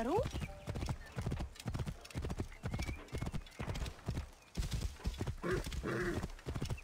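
Horse hooves clip-clop steadily under a rider in the game Assassin's Creed Origins, with a brief whinny at the start, while someone talks over the rhythmic footfalls.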